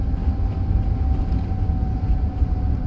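A Kawasaki M9 commuter train running on the LIRR in Train Sim World 4, giving a steady loud rumble with a sustained electric hum throughout and no voices.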